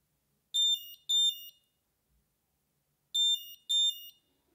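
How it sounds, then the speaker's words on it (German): An OOONO radar warner in a car gives its speed camera warning, two pairs of sharp high electronic beeps separated by a pause, clear and alone against near silence. "wir machen mal einen Blitzerton"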